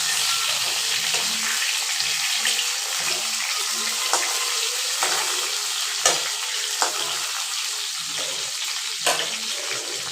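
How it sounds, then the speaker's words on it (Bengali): Pointed gourd pieces frying in oil in a pan, a steady close sizzle with occasional sharp crackles and pops throughout, no voices. "এক সাইড আমার ভাজা হচ্ছে"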